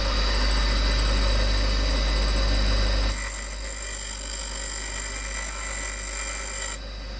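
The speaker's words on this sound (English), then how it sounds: "Now see how I spin the spoke while I'm grinding it square." A bench grinder squares the end of a bicycle spoke as it is spun against the wheel, a steady loud whine with a sharper, brighter grinding tone starting partway through and holding to near the end.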